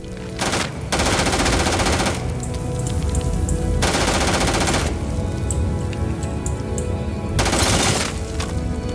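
Rapid bursts of automatic gunfire from a weapon in the video game Starfield, loud and dense, firing in long sustained volleys with brief pauses between them.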